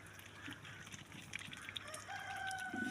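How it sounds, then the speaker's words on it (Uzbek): Chickens cluck softly and a rooster crows in drawn-out calls toward the end, close by against a quiet barnyard background, with no talk. "Bularda tovuqlar bor ichida."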